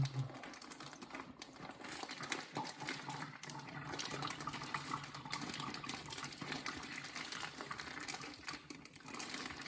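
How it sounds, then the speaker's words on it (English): Leftover steak-tip juices pour from a bag into a kitchen sink, a steady close splashing gush running the whole stretch with clattery texture, no talk. "Just poured out the rest of the bag of juices into the sink."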